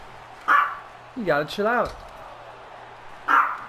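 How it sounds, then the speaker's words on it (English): A dog barks several times in short, close yips and bow-wows, the calls spaced out across a few seconds while someone speaks over them. "Stop barking at dogs."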